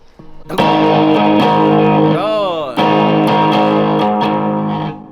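Electric guitar through a Fender amp with the distortion switched on, loud sustained gritty strummed chords with a pitch bend in the middle and a restrike, ringing out close and full.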